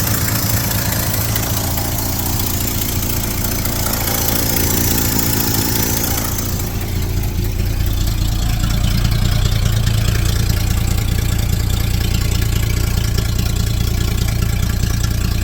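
A rough 1972 Chevrolet pickup truck engine idles steadily throughout, with a deep low rumble and an exhaust rattle from a faulty exhaust that grows slightly louder partway through.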